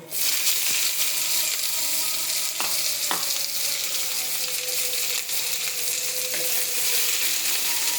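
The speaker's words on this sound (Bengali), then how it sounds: "এখন এটাতে পেঁয়াজ দিয়ে দেব।" Onions frying in hot oil with black cumin seeds, a loud steady sizzle that starts abruptly and holds throughout, with occasional spoon scrapes from stirring, close up and free of talk.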